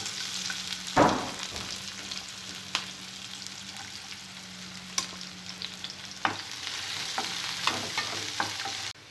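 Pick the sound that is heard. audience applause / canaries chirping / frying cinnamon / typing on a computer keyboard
frying cinnamon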